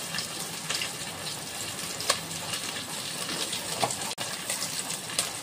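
Bay leaf and black cumin sizzle as they hit hot oil for tempering in a fish curry, a steady crackling hiss with a few sharper pops and one brief click, moderately close with no talk.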